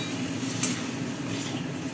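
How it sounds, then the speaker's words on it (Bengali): Spices and onions for a jackfruit curry sizzle and are stirred in a pan, producing a continuous close frying hiss with a few faint scraping and clinking touches. "কষাতে হবে ভালো করে, তাই কষাচ্ছি।"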